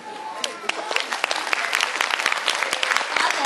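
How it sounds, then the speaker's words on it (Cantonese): An audience applauds after a children's comic Little Red Riding Hood performance, dense clapping throughout at moderate distance. "你俾多啲嘅掌聲佢啦"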